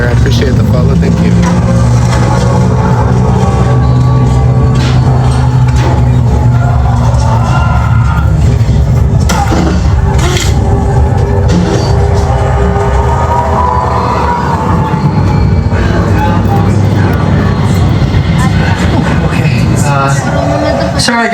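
A Universal Studios Hollywood studio tour tram rumbles along with engine and wheel noise, mixed with crowd sounds, brief cheering and ambient effects throughout.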